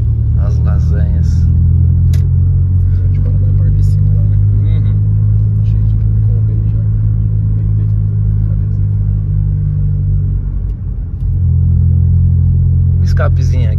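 A 2005 Chevrolet Corsa 1.8 Maxx with a straight-pipe center section and a sport rear muffler rumbles loudly and steadily at night, its deep low drone dipping briefly near the end, with people talking over it.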